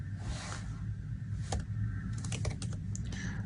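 Quick bursts of typing on a computer keyboard while entering app code, close clicky keystrokes in uneven clusters with short pauses, over a low room hum.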